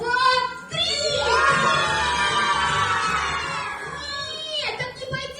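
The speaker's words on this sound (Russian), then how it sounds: "Тогда на счет 3 все вместе кричим привет." A group of children shouts a greeting together after a countdown, a loud sustained chorus of young voices lasting several seconds, then fading into scattered cries.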